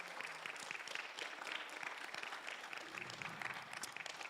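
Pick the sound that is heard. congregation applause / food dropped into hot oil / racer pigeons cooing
congregation applause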